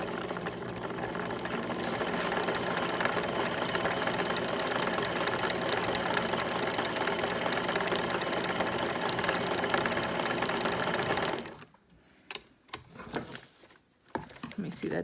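A sewing machine stitching fabric for a Halloween costume, with rapid, even mechanical chatter running loud and close for about eleven seconds before stopping, followed by a few scattered handling sounds.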